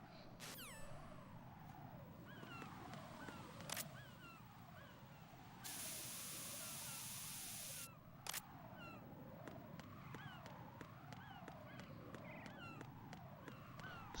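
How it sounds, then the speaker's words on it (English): Coolant spray in Metal Gear Solid 2: Sons of Liberty gives a steady hissing burst of about two seconds. It sits between sharp clicks over a warbling electronic alarm-like ambience that runs throughout. "I just felt like spraying him in the face with coolant."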